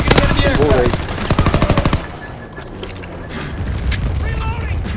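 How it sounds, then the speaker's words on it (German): Anti-aircraft guns fire during a Call of Duty WW2 Team Deathmatch match, starting with a loud rapid burst of shots that is followed by booming blasts and scattered gunfire, while voices talk over the battle. "Anti-aircraft bursts commence."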